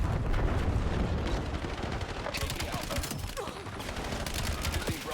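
Rapid automatic fire from the Javek gun in Black Ops 7 rattles nonstop in a dense, loud barrage, with more gunfire and blasts layered over it.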